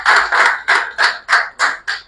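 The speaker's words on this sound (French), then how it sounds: "Ça s'applaudit aussi." Applause at an election count for the new president of the FEGAKAMA federation, seven brief rhythmic bursts of clapping from a gathered crowd, close and loud, with no talking.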